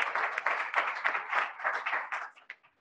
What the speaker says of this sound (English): Let's give Howie and the YEXT team a round of applause for making this possible.